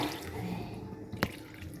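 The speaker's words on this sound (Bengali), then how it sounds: "আমি এবার এটা মাছে দিয়ে দেব। গরম জলটা মাছে দিয়ে দেব।" Hot water is poured into a Bengali boal fish curry in a pan, making a soft running, splashing trickle close by, with a single sharper splash or clink partway through.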